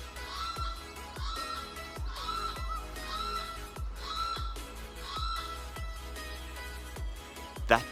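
A migratory bird from Papua New Guinea in a Sydney summer gives loud squawks, repeated about once a second in a steady run, with no one speaking.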